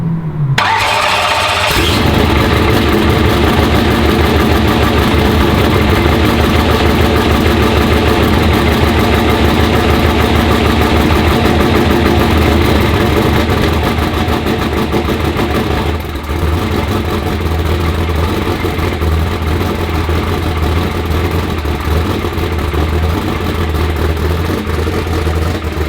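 A vehicle engine cranks and catches, then settles into a loud, steady rough idle in gear for over twenty seconds, with a constant low rumble and vibration.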